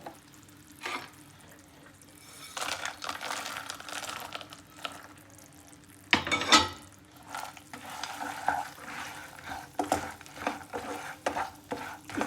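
Dry fruits stirred into melted jaggery in a pan, with repeated close scraping and sticky stirring strokes in uneven bursts, a louder clatter midway and a faint sizzle underneath.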